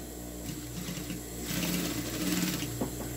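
Sewing machine stitching fabric for a bullet-shaped cushion, a close, steady mechanical whir with a soft rapid needle patter that grows slightly louder midway, with no talk.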